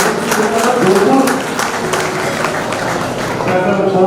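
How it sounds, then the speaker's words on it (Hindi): Loud applause for arriving guests at a community society event in Jodhpur, a crowd clapping steadily with a rapid patter while someone speaks over it. "जोरदार तालियां मेहमानों के स्वागत की"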